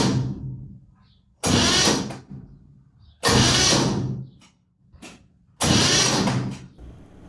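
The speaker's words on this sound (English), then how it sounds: "we can use the starter motor to turn it over" A starter motor turns over a 1969 Chevy engine with its spark plugs removed, in three loud bursts of whirring cranking, each lasting about a second, separated by quiet pauses.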